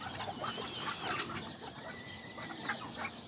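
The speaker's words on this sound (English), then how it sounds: "I let them out right here so they can just be out here walking around, scratching and just being little chickens and roosters" Young chickens and small roosters roam loose in a yard, scratching about with a steady chatter of soft clucks and chirps close by, occasional wing flutters mixed in, no talking.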